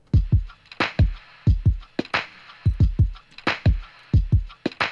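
Original hip hop drum loop from a sample pack, with booming doubled kick hits and bright snares repeating in a steady swung pattern, upfront and alone.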